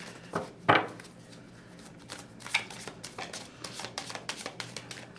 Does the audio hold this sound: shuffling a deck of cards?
yes